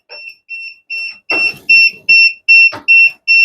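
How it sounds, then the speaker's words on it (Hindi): A Gedsffati gas and carbon monoxide detector in a home kitchen sounds its alarm, a loud, shrill electronic beep repeating in a fast, even rhythm, with brief bursts of clatter and a voice in the background. "ये अलार्म भी कुछ देर बाद बंद हो जाएगा"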